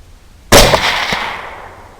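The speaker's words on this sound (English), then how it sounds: "A shot to the shoulder and it goes down" A single sharp rifle shot fired at a wild boar in a valley, loud and close, followed by a lingering echoing decay across the open terrain.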